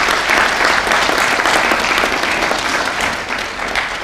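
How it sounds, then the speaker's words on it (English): Sustained applause from a graduation ceremony audience for a regional community evening school, steady and dense throughout with no speech over it. "how about a big round of applause for everybody in this room?"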